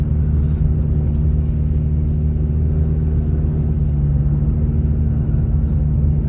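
A car engine idling steadily as it warms up on a snowy street in Big Bear, California; a constant low rumble close by, with no talk over it.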